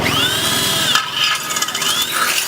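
Electric drill powered by a 3000 W pure sine wave solar inverter, boring through material with a loud grinding whine that rises and falls as the bit bites and pushes through, close and without talk.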